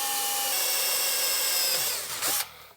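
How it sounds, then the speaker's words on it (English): A power drill with a 1/8 inch bit bores pilot holes into a wooden base, a close, loud whine holding steady before winding down and stopping abruptly near the end. "we're going to start off with a 1/8 inch drill bit to get our pilot holes for all of these and start drilling holes"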